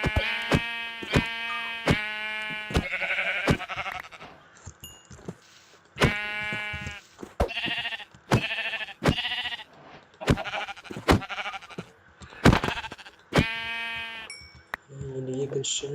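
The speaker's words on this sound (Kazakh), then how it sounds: "Мына қойларды өлтіріп алайық" Sheep bleating in the video game Minecraft, a series of short, clear bleats repeated at intervals across the clip, fairly loud and close, with brief gaps between calls.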